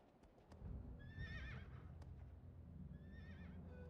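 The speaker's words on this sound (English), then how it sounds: "I hope you like horse riding noises because that's like the majority of this game." A horse in the video game Drakengard whinnies twice over a steady bed of galloping hooves, the neighs sharp and close above the continuous rhythmic clatter.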